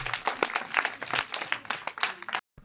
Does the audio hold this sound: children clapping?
yes